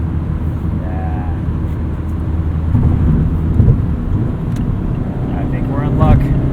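A Mazda MX-5 Miata's engine rumbles steadily and builds as the car accelerates hard up a highway entrance ramp, heard from inside the cabin with road and wind noise; a voice talks over it.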